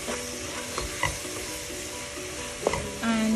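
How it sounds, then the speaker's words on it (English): Sautéed tomatoes with Maggi cubes are stirred in a hot pan, a steady sizzle with a few soft scraping strokes of the spoon, close and continuous, with no voices. "at this stage we need to add the Maggie cubes. stir it just for about"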